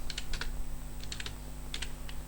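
A Java program being typed on a computer keyboard: a series of crisp, close key clicks in quick bursts with short pauses between them, over a faint steady hum.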